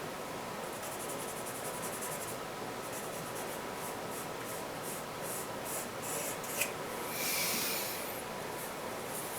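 A paper blending stump rubs across a pencil drawing of a bird nest, producing steady, close, scratchy back-and-forth strokes with a rhythmic pulse and a brief louder swish near the end; no talking.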